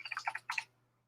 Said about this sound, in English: I love typing this.